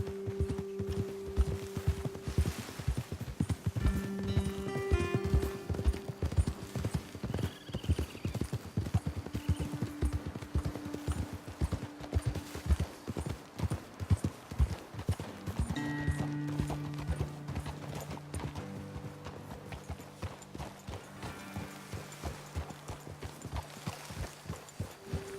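Horses galloping in Red Dead Redemption, a fast continuous clatter of hooves close by with brief whinnies, carrying on steadily under a voice and some background music.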